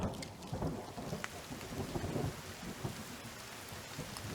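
Thunder rolls through a rainstorm in the survival video game The Forest, low rumbles layered over steady, faint rainfall with no talking.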